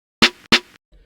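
Two crisp snare drum hits from a boom bap hip hop kit in quick succession, bright and snappy with short decays, followed by a faint quieter tap.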